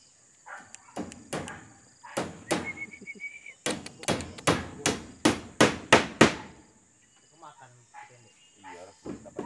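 Hammer blows drive nails, likely into wood at a garden hut, a series of sharp close strikes in uneven bursts that quicken into a fast run before stopping, with faint insect chirping in the background.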